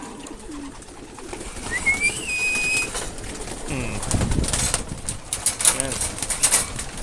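Pigeons or doves squabble while feeding, with coos, flapping wings and short calls close by, while a person talks over them at times.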